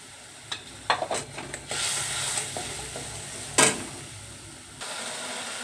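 Turmeric and slit green chillies fry in hot oil, crackling and sizzling steadily as a spatula scrapes and stirs the pan in several distinct strokes, with one louder clatter partway through.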